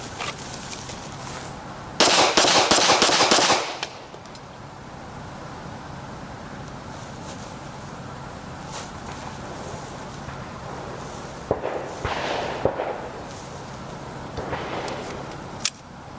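A handgun fired at a target on a training range gives a tight burst of loud shots lasting about two seconds, followed by quieter outdoor ambience with a few scattered sharp cracks.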